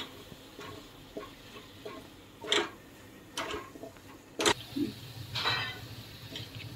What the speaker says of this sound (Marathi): तेल सुटेपर्यंत चांगले भाजून घ्यायचे, म्हणजे भाजीला चांगली चव येते।